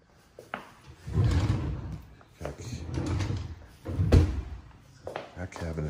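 Slide-out drawer in a kitchen sink cabinet with a Kohler sink, disposal and soft-close doors, the drawer itself not soft-closing; a brief sliding rumble and a sharp clunk come through beneath someone talking.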